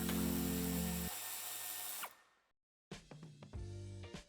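A power drill backs out two screws under the opened tailgate of a 2024 Toyota Yaris Cross during a tow hitch installation, giving a loud steady whine, a brief silence, then shorter bursts of the tool.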